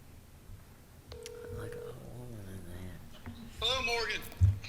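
Touch-tone telephone keypad tones sound during a legislative appropriations hearing as a call is placed, a few short beeps and a steady tone, followed by a brief warbling ring, with voices murmuring in the room.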